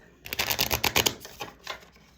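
Tarot cards being shuffled by hand: a run of quick papery riffles and slides, close and fairly quiet, coming in uneven bursts with no talking.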